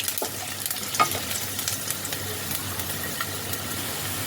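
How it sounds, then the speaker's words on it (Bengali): Whole garlic, whole ginger and spices stirred and fried in hot oil in a pan for a paneer dish, a continuous close sizzle broken by light scraping clicks of the spoon. "সবগুলোকে মিনিট 2 একটু নাড়াচাড়া করে নেব তেলের মধ্যে।"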